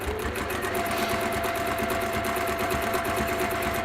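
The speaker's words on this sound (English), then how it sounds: "And I'm top stitching." Sewing machine top stitching with orange thread, a steady fast mechanical whirr with a rapid even needle rhythm, close and continuous without a break.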